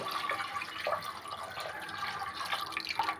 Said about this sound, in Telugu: వాటర్ వేసుకుందాం